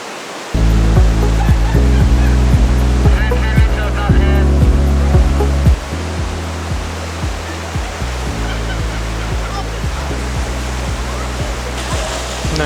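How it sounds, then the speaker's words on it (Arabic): A large river flows through a park in Borjomi, Georgia, a steady broadband rush of water that stays loud and continuous throughout, with a low rhythmic thumping underneath. "هو النهر ده رابط بين تركيا، تعدي من تركيا على جورجيا تقريبا على أذربيجان، هو نهر كبير يعني"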